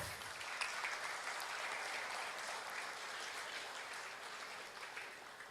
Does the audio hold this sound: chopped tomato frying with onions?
no